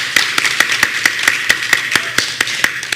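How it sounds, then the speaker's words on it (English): Steady, evenly spaced hand claps ring out close and crisp at a graduation ceremony for a secondary school's class of 2022, sounding more like one nearby clapper than a full crowd. "Give them a round of applause."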